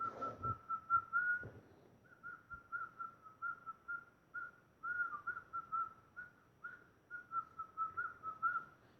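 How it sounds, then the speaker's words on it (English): A person whistles a meandering tune close by, a series of short, clear melodic phrases with brief breaths between them, fairly soft and alone. "Don't let my grandma catch me whistling."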